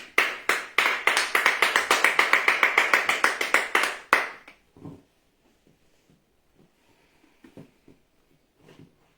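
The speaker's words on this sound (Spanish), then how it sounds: "Bríndele fuertes palmas al Señor." A church congregation gives a burst of loud, rapid applause lasting about four seconds, then stops abruptly, leaving a few quiet taps and faint room noise.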